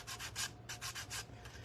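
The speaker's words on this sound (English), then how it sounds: "I just love sanding just to give it that," Sandpaper rubbed by hand over a gourd craft piece makes a quick, rhythmic scratching, about seven close strokes with brief gaps between them.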